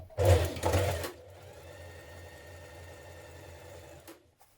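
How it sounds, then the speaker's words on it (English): A sewing machine stitches the short edges of a coat belt in one short loud burst of rapid whirring, followed by a quiet pause and a faint click. "Now sew the 2 short edges of your belt together."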